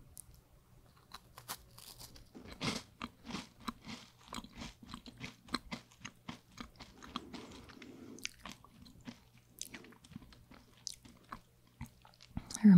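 Close, crisp crunching and chewing of light, crunchy Dutch sprinkles snacks, with irregular bites and soft chewing over a quiet room, and the eater speaking softly in places.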